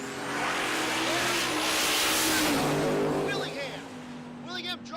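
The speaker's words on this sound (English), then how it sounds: "They'll spool up the turbos. Both twin turbo for and LS for power." Two twin-turbo LS-powered drag cars at Tulsa Raceway Park sit pre-staged, engines droning loud and steady as the turbos build boost, with a tonal whine holding throughout and an announcer talking over the roar.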